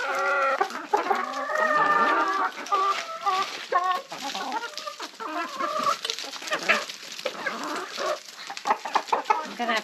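Domestic ducks call at close range with repeated nasal, clucking bursts and rising and falling honks in an irregular, busy rhythm, continuing through the whole stretch without speech.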